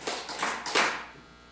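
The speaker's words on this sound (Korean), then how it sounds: "박수 3번만 칩니다." A church congregation claps hands together three times in unison, three quick, fairly quiet bursts that fade into room reverberation.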